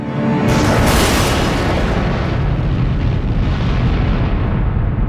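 A huge cinematic explosion depicting the Big Bang opens with a sharp, loud blast, then rolls into a long, dense roaring rumble that slowly thins and fades over several seconds; no voices.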